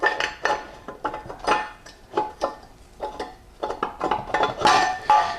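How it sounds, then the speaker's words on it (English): Clutch fiber plates for a drag race Powerglide transmission dropped one after another into a pot of transmission fluid, giving a series of close, irregular metallic clinks and clatters with brief pauses between them. "I'll put the fibers in my pot that has the transmission fluid"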